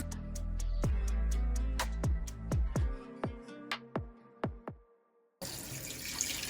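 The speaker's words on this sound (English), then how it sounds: "So let's cut the hot and cold water back on to see how it works." Water from a newly installed bathroom faucet gushes steadily at close range, then thins to a rapid series of drips and splashes before a brief hiss.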